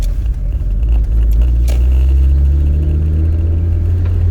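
An Audi R8 engine running rough idles and revs with a deep, uneven rumble, popping as it climbs to just past 3,000 RPM and refusing to rev higher, loud and close.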